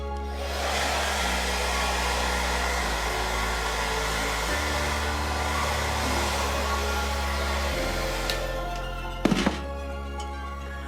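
A hair dryer blows steadily in a loud, continuous whoosh with a shifting motor hum, then a couple of sharp knocks near the end.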